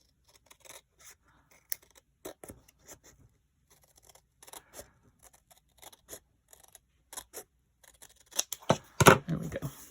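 Scissors trimming paper for a dog-themed craft journal, a string of sparse close snips and rustles that grow denser and louder toward the end, with no talking.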